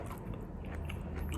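Close, quiet bite and chew of a crispy fried meatball (bakso goreng) made with nugget flour instead of meat, giving soft rapid crunching and mastication with no talk.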